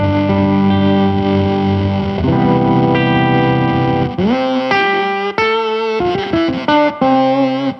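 Electric guitar run through a Pigtronix Space Rip synth pedal, transformed into a thick, buzzy synthesizer tone with dense harmonics, loud and close, sustaining chords that shift into choppy, stepped staccato notes.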